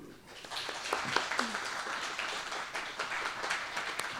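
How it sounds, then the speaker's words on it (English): Audience applause welcoming a speaker onto the stage at a church service, steady dense clapping that holds at an even level throughout. "Let's give a round of applause"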